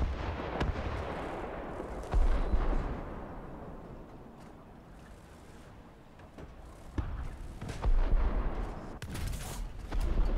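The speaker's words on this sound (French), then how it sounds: "je vais tirer sur un panthère, ça va tirer au travers alors qu'il avait démarré" An AML 90 armoured car fires at a Panther tank in the War Thunder game, with several heavy cannon booms and rumbling impacts spread over the stretch, loud and close, separated by quieter engine and battle ambience.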